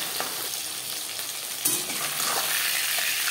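Marinated pabda fish frying lightly in hot mustard oil: a steady, close sizzle and crackle that lifts briefly as pieces settle into the pan, with no voices.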